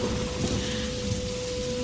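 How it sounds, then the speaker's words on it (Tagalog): Heavy rain pours steadily, a dense continuous hiss with a faint low hum underneath. "Malakas din ang ulan ng gabing yun"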